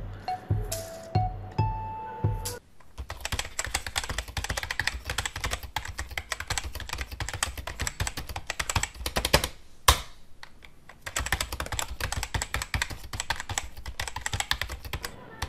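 Fast typing on a computer keyboard: dense, close clacking keystrokes in uneven bursts with a brief pause midway, preceded by a few short tonal beeps at the start.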